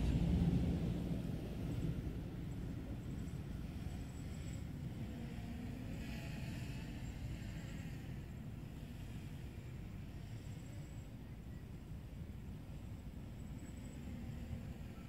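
A boat cruises at a moderate, unhurried speed, its motor giving a steady, even drone with a low rumble and a faint wash of water and wind throughout, with no talking.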